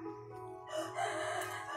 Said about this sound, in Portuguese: O galo tá aqui hoje, na janela da minha casa.